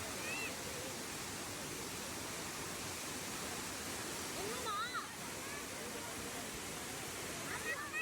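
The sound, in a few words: waterfall at its glacier-fed source, Gollinger Waterfalls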